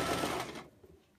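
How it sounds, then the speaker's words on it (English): A sewing machine stitches through the layered fabric of a ruffle skirt, a brief, fast mechanical whir that is close and fairly loud for about half a second, then stops. "This is where it does start to feel like you're sewing"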